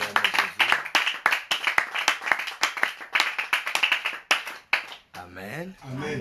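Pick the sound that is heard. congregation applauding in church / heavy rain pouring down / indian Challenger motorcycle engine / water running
congregation applauding in church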